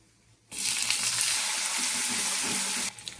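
Chopped tomatoes hit a hot pan while cooking a mixed vegetable dish, setting off a loud, steady hiss of sizzling that starts abruptly, holds for over two seconds, then cuts off sharply.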